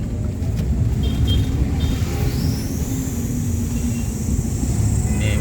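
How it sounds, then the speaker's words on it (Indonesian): A truck passing on a potholed night road on the Camba route toward Makassar, heard as a steady low engine rumble from a moving vehicle, with a rising whine swelling partway through. "Oke, kita berpapasan dengan mobil truk."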